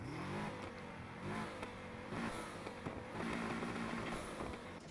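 A car engine in Need for Speed Heat revs and whirs continuously at low level, a rough, buzzy in-game engine tone under other game sound.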